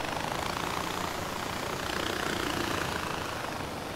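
A helicopter engine in the video game Far Cry 4 drones as a steady, dense whirring roar at an even level throughout, with no voices over it.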